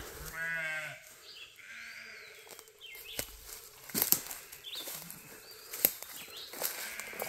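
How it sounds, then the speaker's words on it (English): Goats and sheep grazing on low leaves out in a pasture, with a clear bleat near the start followed by scattered rustling, snapping and quieter animal sounds, moderately near and fairly faint overall. "There's goats and sheep out there, and you can hardly see them."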